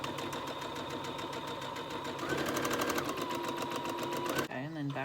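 Home sewing machine stitching fabric for a dust cover for a Cricut Explorer Air 2, a steady close mechanical hum with rapid rhythmic stitching that speeds up midway, then stops near the end.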